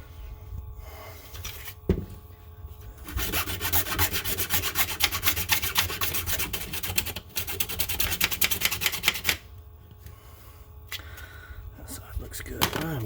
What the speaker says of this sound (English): Sick and tired of sanding it.